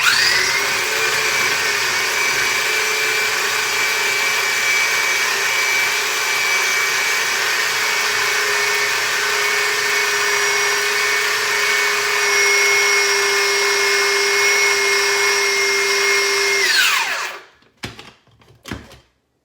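An old food processor whirs continuously with a steady high-pitched motor drone while blending deviled egg filling until smooth, then cuts off abruptly, followed by a few faint clatters.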